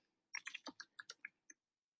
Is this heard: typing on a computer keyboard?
yes